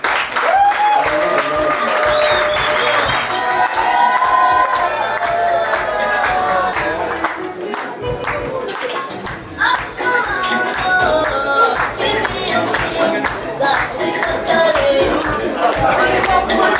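A large audience at a Rwandan music award gala breaks into sustained applause with cheering and shouts, a dense wash of clapping that carries on throughout, with music and voices mixed underneath.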